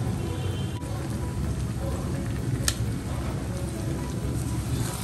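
About 1.5 kg of raw rice fries lightly in oil with onions in a pot for pulao, giving a steady, close, rain-like sizzle with faint stirring scrapes throughout.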